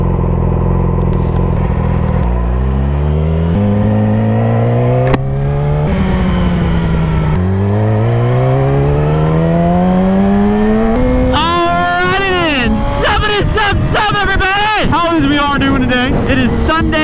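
A Yamaha R6 motorcycle launches and revs hard, its engine note climbing in repeated rising sweeps through several gears, loud and close, turning rougher and busier near the end.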